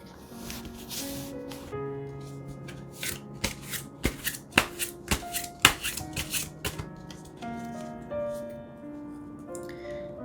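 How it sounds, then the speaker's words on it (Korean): Tarot cards being shuffled and drawn, a run of crisp riffling and sharp card snaps clustered in the middle over a soft background of sustained music tones, quiet and close. "달별로 추가 카드 뽑아서 알아볼게요"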